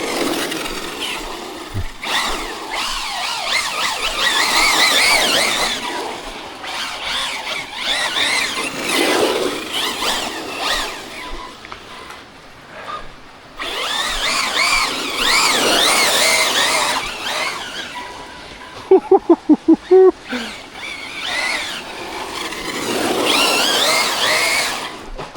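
A Team Corally Shiroi 1/8 scale RC truck, fitted with Method RC wheels, revs hard and spins its tyres in repeated loud bursts, with a brief rapid clattering mid-run.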